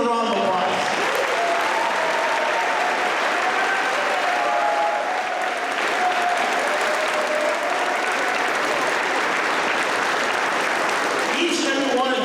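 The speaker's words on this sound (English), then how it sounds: "Let's give a round of applause." An audience at a 2019 graduation ceremony applauds support staff and teachers, a loud, steady round of clapping that fills the room from start to finish and tails off near the end, with some voices mixed in.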